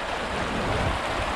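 Creek stream flowing along a rocky bank near a waterfall, a continuous close broadband rushing of water with no breaks and no voices.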